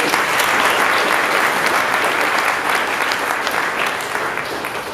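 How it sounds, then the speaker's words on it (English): Audience applause fills a school presentation day after student performances, a thick, sustained roar of many hands clapping at once that holds steady and only tapers a little near the end. "So a big round of applause for everybody."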